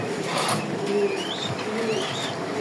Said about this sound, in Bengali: এই যে কবুতর দেখেন, কবুতর দেখলে সন্তুষ্ট হয়ে যাবেন